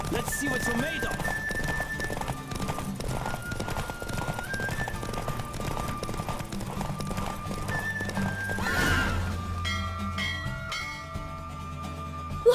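A horse gallops hard in a race in the video game The Witcher 3, its rapid clip-clop hooves and whinnies running steadily throughout beneath tonal game music and voices.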